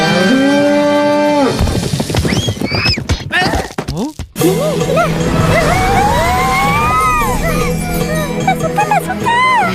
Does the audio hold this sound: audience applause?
no